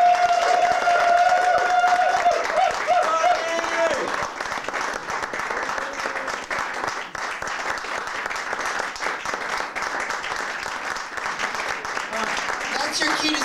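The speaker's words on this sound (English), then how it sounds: "let's give her a big round of applause" An audience at the Doll House theater in Boston in 1999 applauds as a drag performer comes on stage, with dense, sustained clapping and a voice calling out briefly near the start.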